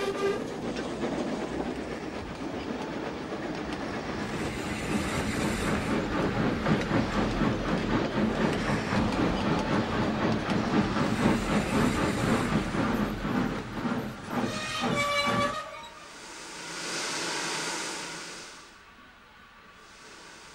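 A loud, rumbling steam locomotive chugs and rattles continuously, then a long hissing release of steam rises near the end as the noise fades.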